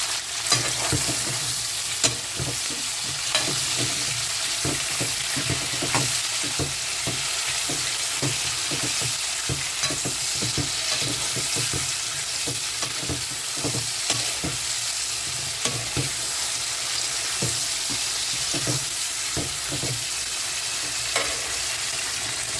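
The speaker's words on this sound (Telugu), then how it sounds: "ఫైనల్గా మన మునక్కాడలు అన్నీ వేసేసి చక్కగా కలుపుకోవాలి." Andhra-style sambar is stirred steadily after drumsticks are added, with continuous close sizzling and repeated scraping and stirring strokes, no voices.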